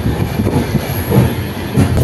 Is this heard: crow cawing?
no